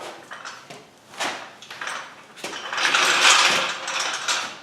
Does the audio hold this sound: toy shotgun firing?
no